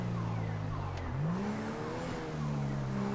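A car cruises in GTA 5 with a steady engine hum that shifts pitch as it changes gear. The sound is continuous and fairly close, with no talk over it.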